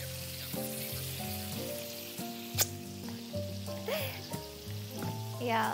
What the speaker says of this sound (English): we are going to flip our bacon